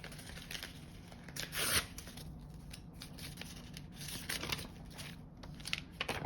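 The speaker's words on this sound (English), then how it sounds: "let me grab a piece of paper here." A sheet of paper is handled during a map and protractor land navigation lesson, giving soft crinkling, sliding and rustling sounds with a couple of sharper crisp rubs, close and fairly quiet, with no talk.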